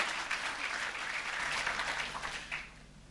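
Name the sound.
applause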